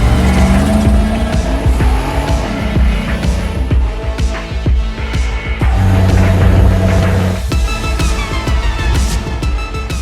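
A 4WD vehicle climbs Tasmania's biggest sand dune, its engine loud and close, revving hard and shifting pitch as it labours up the sand, with a brief dip partway through before the strain resumes.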